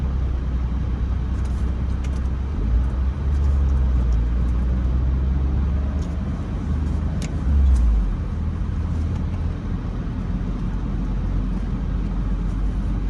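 A car drives through a city street and makes a left turn at an intersection near a middle school, with school buses nearby; steady low engine and road rumble throughout, with a slight swell midway.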